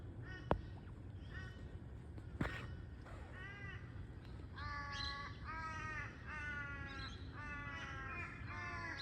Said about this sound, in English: Morning, crows.